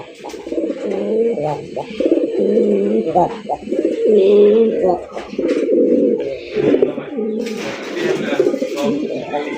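Several pigeons coo close by in a loft of egg-laying racing, Giribaz and Raj Golla pigeons, with a steady, overlapping run of soft throaty calls; someone talks intermittently over them.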